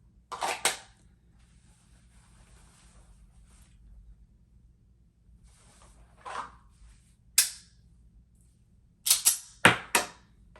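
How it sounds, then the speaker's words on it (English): A handgun drawn from concealment with a round chambered and fired, heard as several sharp, loud reports and clicks spaced across the stretch, separated by quiet gaps. "So, first, I will chamber around, draw, and fire."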